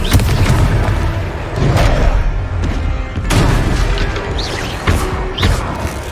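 Confringo explosive spells in Hogwarts Legacy boom repeatedly, each loud blast thudding heavily amid crashing debris and continuous game noise, roughly every second or two.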